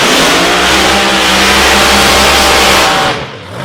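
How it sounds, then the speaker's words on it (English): A drag race car does a burnout at South Coast Raceway, its engine roaring loud and sustained at close range before easing off in the final moments. "Beautiful burnout."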